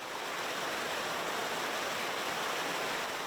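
Rushing water of a mountain valley stream, a dense continuous roar, loud and steady throughout with no voices.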